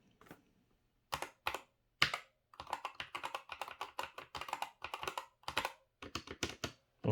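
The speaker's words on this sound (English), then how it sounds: "And there's the keyboard." Typing on a new Corsair K100 computer keyboard, close-up: brisk bursts of crisp keystrokes separated by short pauses, with a couple of isolated single taps early on.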